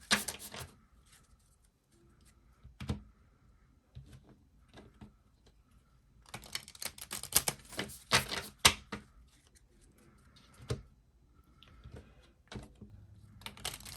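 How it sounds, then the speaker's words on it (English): A deck of 36 Lenormand cards is shuffled in close, irregular bursts of riffling and tapping, with quiet gaps between handfuls and no speech. "we're going to shuffle, and then we're going to begin to lay out the 36 cards"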